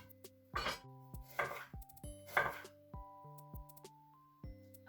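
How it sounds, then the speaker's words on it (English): A knife chops through an onion into thick slices on a board, several distinct cuts landing in an uneven rhythm with quiet pauses between them, close and moderately loud. "Now, you want to chop this onion into slices."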